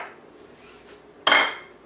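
A spoon clinks and scrapes once against a bowl while chocolate cake batter with sour cream and vanilla is stirred, a short bright burst after a quiet stretch, close and alone.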